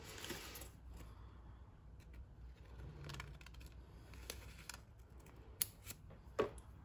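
Scissors cut a sheet of paper in half for a journaling page, making a few quiet, scattered snips and crisp clicks of the blades close up, with no talk.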